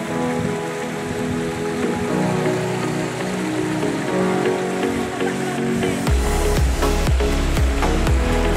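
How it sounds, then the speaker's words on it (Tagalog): Steady patter of light drizzle on a surface near Tai Tam waterfalls, with soft hiss throughout and a louder, low rumbling patch near the end. "Umaambon na!"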